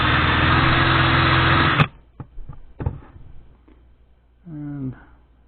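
A loud, steady high-pitched drill-bit whir routing sideways through fishing lure material cuts off abruptly, followed by a few clicks and taps and a brief voice.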